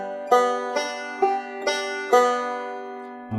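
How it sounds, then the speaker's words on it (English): Banjo picked in a backward forward roll pattern, with five bright plucked attacks whose tones ring and overlap in a steady rhythm, close and clear with no voices. "the backward forward roll is gonna sound like this."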